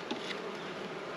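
Steady dense buzzing of many honeybees at an opened hive frame during an inspection, a continuous close insect drone with no talk.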